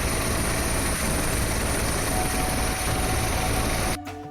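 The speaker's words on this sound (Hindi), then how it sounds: "अयोध्या प्रशासन ने हेलीकॉप्टर से पुष्प वर्षा की।" A helicopter showers flowers over Kanwar pilgrims in Ayodhya. Its rotor and engine roar close by in a loud, steady drone that cuts off abruptly near the end.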